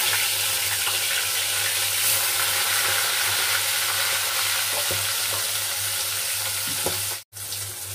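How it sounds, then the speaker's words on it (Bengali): Fish heads frying in hot oil give a steady, close sizzle that runs almost unbroken for about seven seconds, then cuts out briefly near the end before resuming. "বাদ বাকি যে মাথাগুলো আছে সেগুলো ভেজে নেব।"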